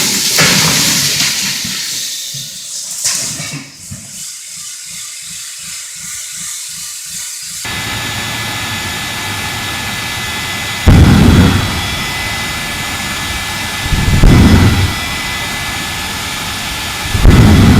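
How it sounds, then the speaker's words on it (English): A jet-powered fire truck roars with a loud, hissing jet blast, preceded by a brief mix of other noises and rhythmic thumps, then swelling in several powerful surges. "This jet-powered fire truck transforms every run into a jaw-dropping display of raw power and adrenaline-fueled excitement."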